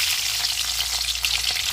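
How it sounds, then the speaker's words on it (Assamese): Onions sizzle and crackle in hot oil in a pan, a steady, dense frying hiss that is close and fairly loud throughout with no talking. "এতিয়া তেলখিনি গৰম হ'ল পিঁয়াজ এয়া দি দিওঁ"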